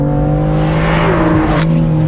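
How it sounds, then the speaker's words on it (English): A BMW M4 with a Stage 2 E85 tune, pulling in third gear, revs up steadily toward redline: a loud, continuous, rising engine drone that stays close and unbroken, with no talk. "Revving it out all the way to the red line."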